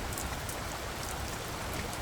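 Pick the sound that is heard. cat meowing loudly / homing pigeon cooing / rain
rain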